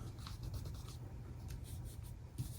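A pen scratches across paper, tracing over a stencil in a Happy Planner, with short close strokes coming in quick bursts and brief pauses, ending with a louder tap.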